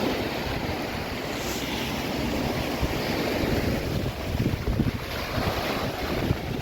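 Sea waves wash onto Catalan Bay beach in Gibraltar as a steady broadband surf roar, mixed with heavy wind buffeting the microphone and no talking.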